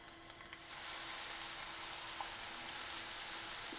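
Chicken cutlets frying in hot oil in a pan, a soft steady sizzle that starts after a short quiet moment and holds evenly, fairly faint and close, with no talking.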